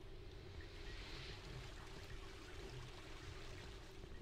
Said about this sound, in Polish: Wodę słychać.